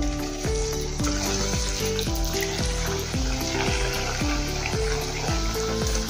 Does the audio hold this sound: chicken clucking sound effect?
no